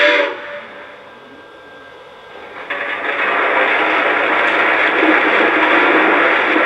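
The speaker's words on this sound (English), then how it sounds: "You can hear the coal being loaded into the tender." A Lionel LEGACY 2-10-4 toy steam locomotive plays its coal-loading sound effect into the tender. A steady hiss fades, then a rough, continuous rushing rumble swells and holds loudly to the end.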